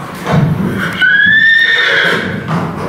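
A purebred horse whinnies loudly in a flooded stable, one long, shrill, wavering neigh standing out clearly above low background noise.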